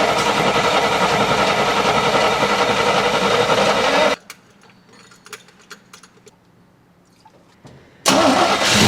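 An old truck engine, found abandoned in a barn, roars loudly and steadily, cuts out into near quiet with faint clicks, then bursts back to life at full volume.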